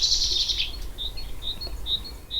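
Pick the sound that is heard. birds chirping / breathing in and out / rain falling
birds chirping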